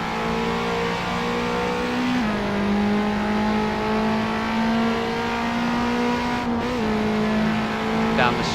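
A race car engine drones at sustained high revs on a British circuit, with a brief gear-change dip and continued full-power acceleration, loud and steady with no speech.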